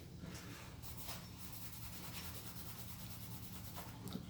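Steady, close rubbing of 3000 grit sandpaper sanding and polishing the housing of a billet AWD transfer case, a continuous soft scratchy friction that runs unbroken throughout with no talking.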